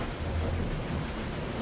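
Stormy sea off Cape Horn under a 45-knot wind, with eight-metre troughs: a steady, loud roar of wind and crashing water with deep rumbling, no voices.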